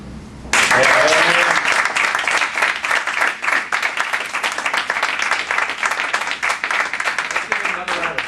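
An audience applauds at an end-of-year celebration, starting abruptly and holding a loud, steady wash of many clapping hands that continues to the end with a slight ebb in the middle.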